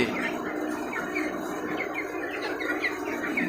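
Broiler chickens kept in layered wire cages on a farm give off a steady wash of soft clucks and chirps, many birds calling at once under a constant background hum.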